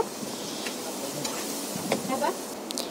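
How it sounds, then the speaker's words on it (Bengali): Tomatoes and spices fry in a hot pan while being stirred, a steady sizzle and hiss broken by light scraping and clicking as the spoon moves through the mixture. "এবার ভালো করে নেড়ে চেড়ে আরও 2-3 মিনিটের মতো ভেজে নেব।"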